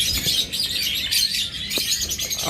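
Violet opaline top-marking pet birds twitter nonstop at close range, a dense layer of bright overlapping tweets with occasional louder calls and no voices over them.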